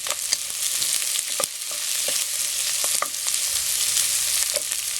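Pork and onion frying in a pan for sopas, a bright loud sizzle with repeated clanks and scrapes of a stirring utensil, close by and without speech.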